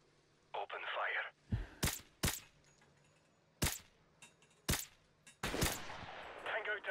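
Gunfire rings out in Modern Warfare Remastered, several sharp, loud single shots spaced a second or so apart, with a burst of noisy rushing sound between them and voices speaking faintly in the background.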